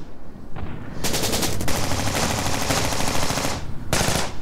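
Rapid machine-gun bursts in a war drama set in wartime China, loud sustained automatic fire after a brief lead-in, with a short pause before a final burst.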